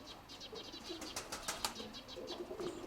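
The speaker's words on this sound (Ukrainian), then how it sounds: "Розлітався такий голубок" A pigeon flies in misty weather, its wings flapping in a quick run of soft, rhythmic beats that build and fade at close to middle distance, faint and without voices.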